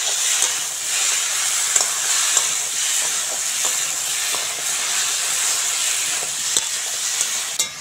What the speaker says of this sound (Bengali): সবজিটা ভালো করে ভেজে নিতে হবে,